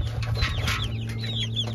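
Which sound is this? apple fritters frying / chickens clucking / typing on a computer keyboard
chickens clucking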